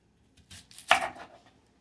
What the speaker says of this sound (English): We're going to use the whole onion, but I cut it in half so it's easier to handle.